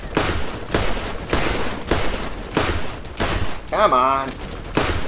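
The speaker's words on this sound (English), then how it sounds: "Maybe if I use the revolver here." Revolver gunshots in the Borderlands video game, a run of loud, sharp reports spaced about every second or so, with a voice speaking briefly partway through.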